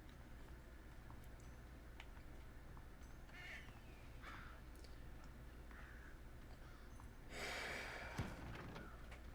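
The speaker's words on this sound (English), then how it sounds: "You blasted birds!" A few faint crow caws sound through quiet, hushed ambience at an old haunted location in the video game Red Dead Redemption, with one louder noisy burst near the end.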